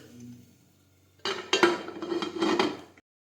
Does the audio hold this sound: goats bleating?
no